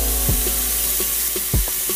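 Potato and onion mixture for a potato omelette fries in a pan while a spatula stirs it, giving a steady sizzle with a few scraping knocks of the utensil near the pan.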